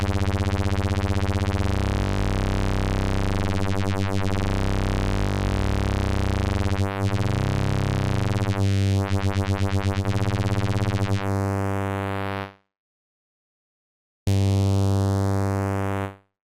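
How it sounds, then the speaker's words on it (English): A rich, buzzy synth tone holds for a long stretch, its timbre sweeping and shifting slowly, then stops briefly and returns before ending. "that's the sound we're going after"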